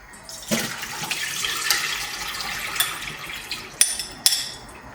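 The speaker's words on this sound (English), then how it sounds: "I use a sieve to get rid of the water." Water pours and trickles through a kitchen sieve as cooking water drains away at a home Onam Sadya meal, a steady splashing wash with a few sharp clinks near the end.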